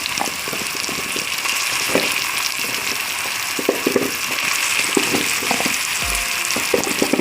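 Washed gooseberries dropped into hot oil in a pan, giving a loud, dense, continuous hissing sizzle with occasional pops and stirring clatter, close up and with no speech.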